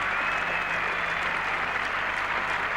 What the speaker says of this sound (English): And the roar of applause greeting the Headingley hero, Ian Botham.